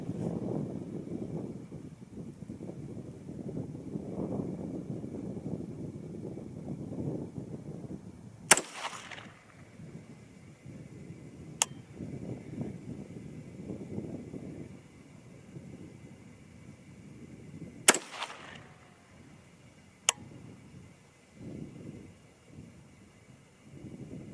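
Four sharp rifle shots from a 6mm ARC during sighting-in at an outdoor range, each a loud crack with a rolling boom, spaced several seconds apart over wind noise and low rumble.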